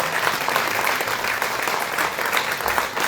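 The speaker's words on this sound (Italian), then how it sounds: "Un applauso a Zip." An audience at a live singer-songwriter showcase claps for a young performer, a dense, continuous burst of applause at steady loudness.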